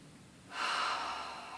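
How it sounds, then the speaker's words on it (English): A single deep inhaled breath, close and fairly soft, a rushing intake that starts suddenly and tails off slowly, with no talking. "Take a nice deep breath."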